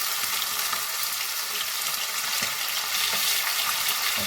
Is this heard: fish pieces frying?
yes